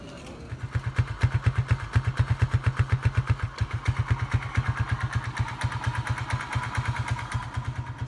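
A well run-in Sanili engine runs after an oil change. It gives a steady, rhythmic chugging of evenly spaced firing pulses that stay loud and close for several seconds, with no talk over it.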